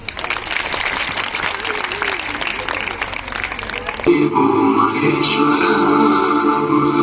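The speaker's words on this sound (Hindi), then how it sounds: "जोरदार तालियां बजाएंगे।" Audience at a school Teacher's Day celebration breaking into loud applause, which swells midway and then continues as steady dense clapping, with some music or voice heard underneath.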